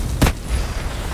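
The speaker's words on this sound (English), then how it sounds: "Throwing grenades." One short grenade explosion from the video game Outriders thuds with a deep boom, followed by a low rumbling tail against steady background noise.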